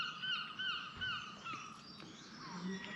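Crows caw repeatedly at a campsite, a series of harsh rhythmic calls at moderate distance standing out over a steady outdoor background.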